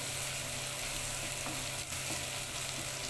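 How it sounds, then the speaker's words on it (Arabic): Onions sautéing in a little butter give a constant, even sizzle close by, with faint occasional clinks and no talking. "حطيت البصل وهو يتشوح في شويه زبده"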